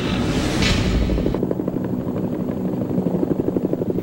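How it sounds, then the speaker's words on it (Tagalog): A Philippine Air Force UH-1D helicopter flies nearby, its rotor thudding in a steady rapid pulse beneath a broad engine roar, with a brief louder rush early on. "Para patunayang hindi depektibo ang mga helicopter, pinasakay pa ang ilang taga-media."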